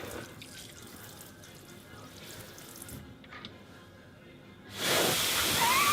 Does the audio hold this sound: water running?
yes